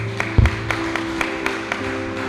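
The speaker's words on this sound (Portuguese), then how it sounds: "As palmas louvam ao Senhor." A church congregation claps in a steady, even rhythm during a live worship service, the claps sharp and regular over a sustained keyboard tone.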